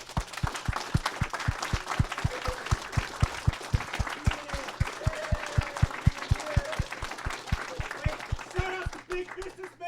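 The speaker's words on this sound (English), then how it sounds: "Let's give them a round of applause." A crowd claps steadily for several seconds, dense and close, with the applause thinning out near the end and a few voices underneath.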